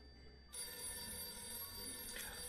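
A telephone rings in the back of a café in the point-and-click game Art of Murder, a bright electronic ring that starts abruptly and holds steady and clear over faint background ambience.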